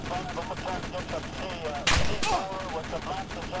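Gunfire in the military video game ARMA 2, a sharp burst of shots midway through a busy battle mix, with steady background noise and distant crackle before and after.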